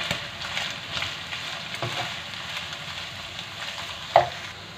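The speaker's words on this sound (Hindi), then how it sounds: "अब हम इसमें शामिल करेंगे कद्दूकस की हुई बारीक गाजर और इसको फ्राई करेंगे" Finely grated carrots frying in a pan with browned chicken for egg fried rice, giving a steady close sizzle with soft stirring scrapes and one sharper clink of a utensil near the end.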